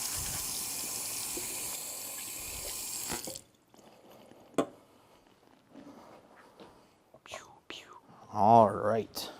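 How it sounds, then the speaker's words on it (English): A kitchen tap runs steadily into a sink for a few seconds while fruit is washed, then cuts off, leaving scattered handling clicks, drips and a brief splash near the end. "going to wash my fruits that I will be using since the rind is going in the recipe"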